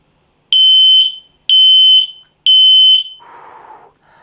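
X-Sense FS31 smoke alarm sounding its button test: three loud, piercing beeps about a second apart, close by, followed by a brief softer rustle.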